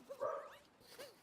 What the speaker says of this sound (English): Well, I'm gonna mute my dogs real quick.